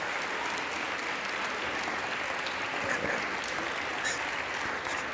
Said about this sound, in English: applause for Nancy Pelosi, because who wouldn't want to applaud Nancy Pelosi?